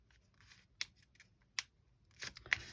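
Scissors snip through tracing paper in a few sharp, close cuts, with a quiet pause between the early snips and a quick cluster near the end.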